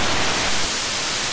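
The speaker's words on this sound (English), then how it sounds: "You get into this sort of supersonic high wind zone, which is completely unnatural" Harsh bright static hiss from the Airwindows DarkNoise audio plugin pushed into an unnatural supersonic high-wind zone, a steady loud wash with no other sounds.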